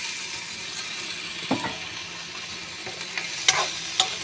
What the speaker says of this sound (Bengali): বিলাহিটা অল্প ভাজা ভাজা করি।